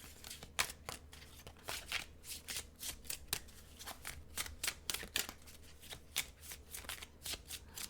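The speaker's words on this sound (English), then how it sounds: "I don't know why these cards are so hard to shuffle today." A deck of tarot cards is shuffled by hand in a long series of quick riffling bursts, close and crisp, with no talking.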